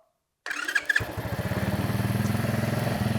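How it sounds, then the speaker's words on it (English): The small engine of a drift kart cranks with a few rough pulls, then fires and settles into a steady, close, fast-chugging idle that continues to the end after a short silent start. "We might give it a little bit of choke and we'll try and start it."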